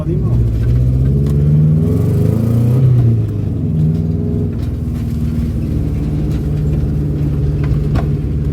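A car engine starts up close, then revs and rises as the car pulls away and settles into a steady rumble. Voices talk over the engine.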